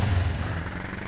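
A motorbike ridden uphill in the game Tomb Raider: The Last Revelation, a steady loud engine drone with heavy low rumble filling the whole short moment.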